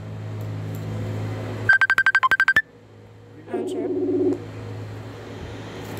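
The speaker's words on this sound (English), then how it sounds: "Wait, he's calling me." An incoming call ringtone on a device during a Roblox game session, a rapid burst of loud repeated electronic beeps over a low hum, followed by a shorter warbling tone.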